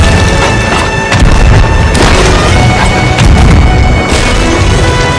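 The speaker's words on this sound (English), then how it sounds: "I decided to hit their boat with some blunder bombs" Loud, dense booming blasts of blunderbombs striking a boat in Sea of Thieves, a continuous crashing barrage with heavy low rumble and splintering impacts.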